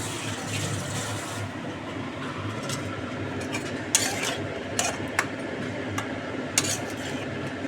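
Tangra fish stirred and sautéed in oil in a pan, with a steady sizzle throughout and scattered sharp clinks of a utensil against the pan, close and alone with no talk.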